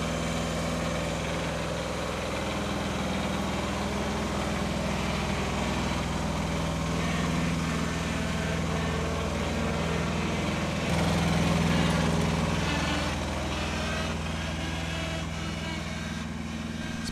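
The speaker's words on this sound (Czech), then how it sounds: "Sekačku vlastně pojezdovou s traktorkem, kterou většinou používáme na sečení hřiště a velkých rovných ploch." Ride-on lawn tractor mower idles steadily nearby with a low, even engine drone that swells slightly partway through, continuous and fairly loud.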